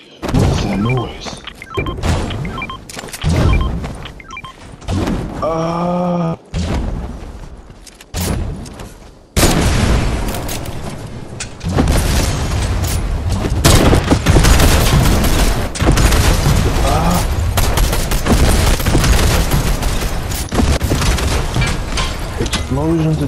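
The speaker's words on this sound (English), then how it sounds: "Explosions, explosions, explosions." Video-game explosions in Fortnite: loud, dense booming bursts that start around the middle and keep rolling almost continuously to the end, after a choppier stretch of music-like game sounds.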